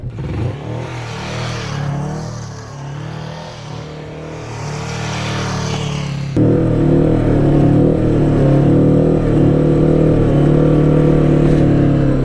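A Kawasaki Vulcan S motorcycle accelerates up close, engine note climbing through the revs, then holding a loud, steady drone after a gear change midway.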